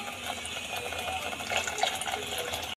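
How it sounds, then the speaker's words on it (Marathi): Water from a mixer jar of ground paste pours steadily into a cooking pan, a continuous splashing hiss that swells slightly near the end before stopping abruptly. "आता ह्याच्यामध्ये आपण जे वाटलं होतं मिक्सरमध्ये, त्याचंच पाणी आपण ह्यामध्ये टाकून घ्यायचं"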